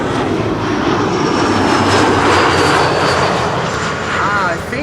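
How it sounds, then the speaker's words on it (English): An Embraer jet landing on runway 06 at Amsterdam Schiphol, its engines roaring loud and close in a sustained wash that peaks midway, with a voice speaking over the noise. "There's an Embraer."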